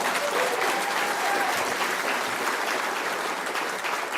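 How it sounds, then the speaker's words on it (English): A political rally crowd in Kelowna claps for a member of Parliament from Penticton: sustained, dense applause from many people, steady and fairly loud throughout, with some murmuring voices under it. "Give her a round of applause."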